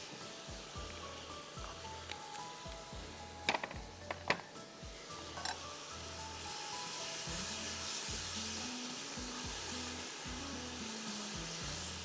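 Masala for mutton trotters (paya) browning in a pan, a soft steady sizzle with a few sharp scrapes and knocks near the middle, no voices.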